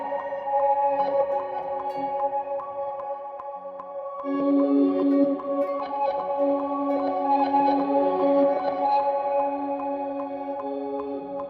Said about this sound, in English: it's just doing this reverse kind of glitchy thing